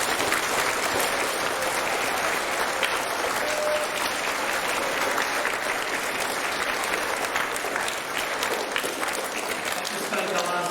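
Dense, continuous audience applause at a senior high school assembly in a hall, steady and loud from start to finish with a faint crowd murmur beneath.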